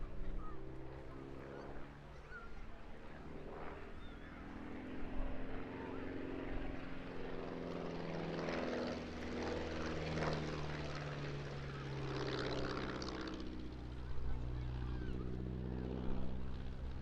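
A propeller aircraft flies aerobatics at the Eastbourne International Airshow, its engine droning and changing pitch through a loop and stall turn, moderately distant beneath an announcer's commentary.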